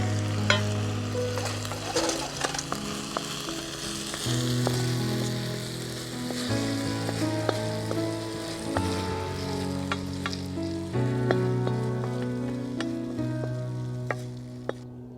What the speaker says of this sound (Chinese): 大火收汁，装在另外一个新的盘子上面。